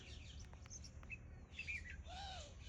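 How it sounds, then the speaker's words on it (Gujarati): Several birds chirp and call in a peaceful natural spot near Ahmedabad, with short bright tweets scattered throughout and a clearer, louder warbling call near the end, over a low steady background rumble. "આવા જ પશુ પક્ષી જીવજંતુઓનો અવાજ અને આ પ્યોર નેચર."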